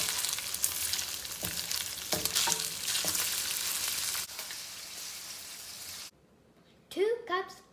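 Diced bacon frying in a pan gives a steady sizzle and crackle while a utensil stirs it with a few scraping knocks; the sizzle cuts out near the end and a voice briefly speaks.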